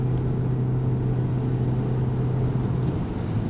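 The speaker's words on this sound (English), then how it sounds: "there you can hear it doesn't shift up because it only has 1 gear and doesn't sound the greatest" Mitsubishi Eclipse Cross with a single-gear transmission accelerating steadily without any shift, a continuous moderate engine drone with a faint whir that holds one even pitch throughout.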